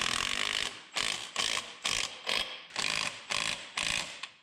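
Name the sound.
tightening engine motor mount bolts on C-10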